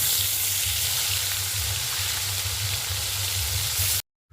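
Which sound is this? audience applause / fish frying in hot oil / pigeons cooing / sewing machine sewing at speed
fish frying in hot oil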